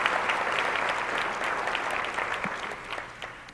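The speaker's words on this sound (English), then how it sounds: "And I want to applaud for that." Sustained applause from a large audience at a Detroit event, dense even clapping at full strength throughout, close and loud.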